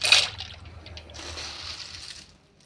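Dry macaroni dropped by the handful into a pot of water, giving a quick splash and patter followed by a soft, fading trickle, close by with no talk.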